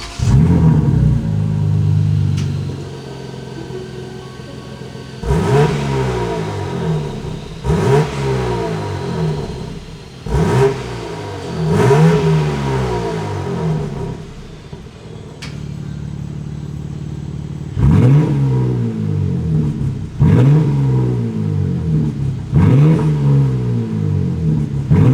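A BMW G80 M3 with the S58 engine revs repeatedly with its exhaust valves closed, several sharp rise-and-fall blips in two clusters separated by a brief lull, loud and close with a steady idle rumble between.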